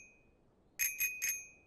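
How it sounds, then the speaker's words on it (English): Three quick bright rings of a bell struck by the goose in Untitled Goose Game, each ring clear and close, in a short even rhythm against near silence. "Can hit the bell there."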